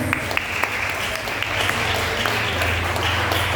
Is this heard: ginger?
no